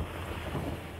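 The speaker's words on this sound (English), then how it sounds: "It's still windy." Strong wind from Tropical Storm Isaias roars steadily and loudly, buffeting the microphone with a dense, low rumble that lasts throughout, with no voices.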